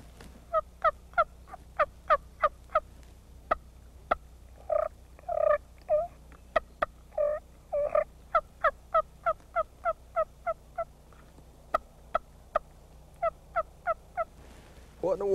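A man imitates a wild turkey gobble with a mouth call, no device used, giving quick rhythmic series of yelps and a few longer rattling gobbles, moderately near and clear against a quiet background.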